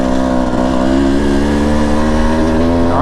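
A Husqvarna TE 150 TBI dirt bike engine lugs at low revs in third gear, a loud, close, steady throbbing drone with a slight rise in pitch near the end.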